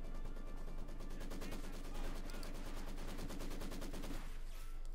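Sustained machine gun fire in the Company of Heroes 2 video game, a rapid steady stream of shots lasting several seconds, loud and continuous with no talk.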